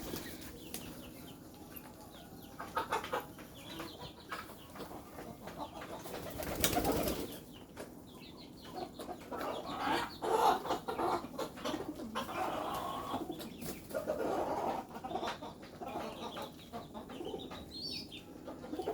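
Pigeons coo softly and repeatedly at close range, with a brief burst of wing flapping and some clucking-like calls around them.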